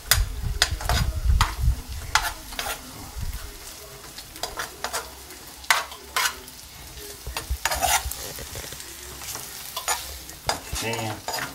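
Onions fry for onion tacos in a pan, a close sizzle broken by repeated scraping stirs and knocks of a utensil against the pan, with no talking.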